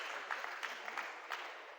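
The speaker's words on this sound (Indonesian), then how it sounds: "Tepuk tangan buat kaki kita yang berbicara." Applause from an audience at a leadership seminar, steady and moderately distant, with soft irregular clap peaks and no voices over it.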